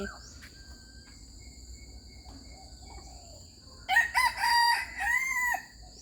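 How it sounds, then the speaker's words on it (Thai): A rooster crows loudly near the end over a faint background of chirping insects and a steady high whine. "คุณไก่ฟังนั่นกับขัน"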